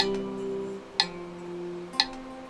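Soft guitar notes sustain through an arpeggiated chord progression while sharp ticks, like metronome clicks, mark the beat about once a second. The sound is quiet and close, with no talking.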